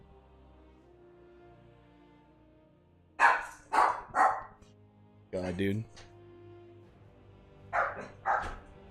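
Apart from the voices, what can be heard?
dogs barking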